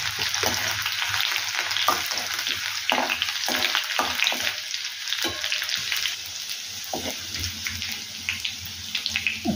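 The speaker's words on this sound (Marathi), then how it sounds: "जिरे व्यवस्थित चटचटले की आता त्यामध्ये आपण थोडी आलं लसूणची पेस्ट टाकून घेऊया." Ginger garlic paste sizzles and crackles with cumin seeds in hot oil, a steady close frying hiss with small pops and stirring scrapes, no voices.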